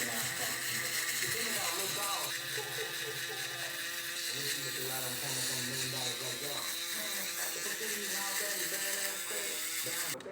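Electric shaver buzzing and whirring during a bald fade haircut, a steady close mechanical drone with someone talking over it throughout.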